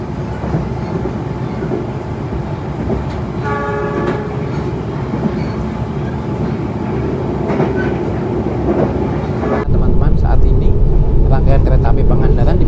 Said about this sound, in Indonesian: Kereta api Pangandaran dipacu dengan kecepatan kurang lebih 75 hingga 80 km per jam